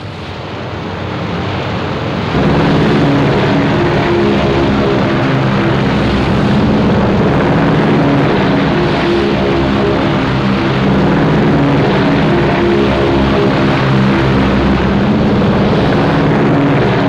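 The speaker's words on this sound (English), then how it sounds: "At 1700 hours, Spruance launched his aircraft from the Hornet and Enterprise." Propeller warplanes launch from the carriers Hornet and Enterprise at Midway, a loud, steady engine roar swelling after a quieter opening and holding at full power, with wind-like rush over it and no talking.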